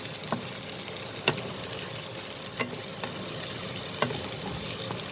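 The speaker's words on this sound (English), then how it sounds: "the onion and the chillies. I will just saute them." Onion and chillies saute in a tablespoon of hot oil in a pan for aloo samosa filling, giving a steady close sizzle broken by a few sharp clicks of a spoon stirring against the pan.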